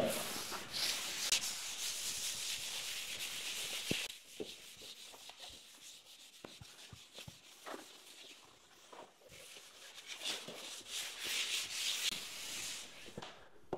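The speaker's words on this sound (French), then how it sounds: "On remettra un léger coup de ponçage." Plaster filler on a wall is sanded by hand with a sanding block, giving steady abrasive rubbing strokes, close and continuous at first, then shorter scrapes with brief pauses.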